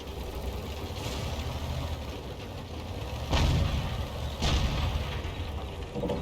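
A tank cannon fires in a World of Tanks style battle involving an EMIL 1951 and a Progetto, sharp booms standing out at about 3.3 and 4.4 seconds over a steady rumbling engine and battle noise bed.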